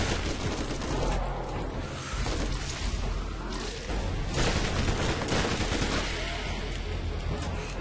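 Rapid automatic gunfire from the video game Borderlands as zombies are shot, dense overlapping bursts filling the whole stretch at high volume, with no voices on top.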